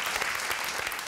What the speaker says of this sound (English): You deserve more applause, but this is all we have.